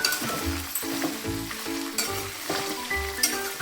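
Tender okra frying in hot oil in a pan, a steady sizzle broken by repeated scraping and clinking strokes of a spoon stirring at a regular rhythm, close and fairly loud, with no voices.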